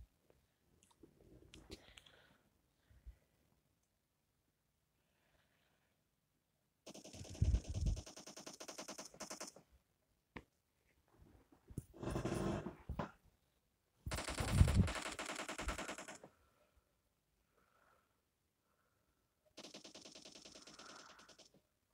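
Automatic gunfire in a PUBG Mobile custom room match arrives as several separate rapid bursts of shots, with quiet gaps between them and the loudest volleys near the middle.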